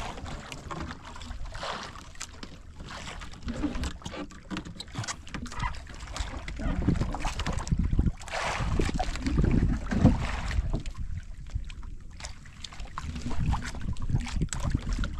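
Small boat out on the water at night, a low rumbling motor and water wash rising and falling with wind buffeting the microphone, moderately loud and steady, no clear speech.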